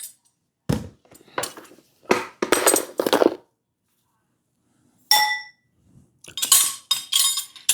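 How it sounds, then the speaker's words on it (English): Glass bowls and jars clanking together on a kitchen counter in several separate bursts of clinks and knocks, close and bright, with silent pauses in between. "I don't want them all clanking and making noise"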